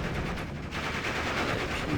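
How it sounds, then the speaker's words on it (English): Sustained machine-gun fire in the WWII strategy game Steel Division: Normandy 44, on the Utah Beach campaign mission, a dense unbroken stream of rapid shots filling the whole moment at steady loudness. "MG just sitting out in the open, nobody can hit it."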